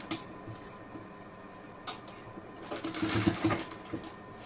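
Sewing machine stitching fabric along a marked line, a faint mechanical whirring that picks up into a busier run of stitches near the end, with light clinks.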